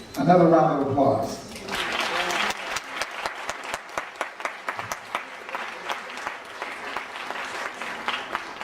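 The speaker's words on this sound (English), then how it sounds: "Another round of applause" Audience at a community presentation applauds after a speaker's introduction, a dense burst of clapping that thins into scattered individual claps; a voice talks briefly at the start.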